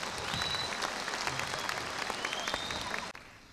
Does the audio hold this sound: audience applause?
yes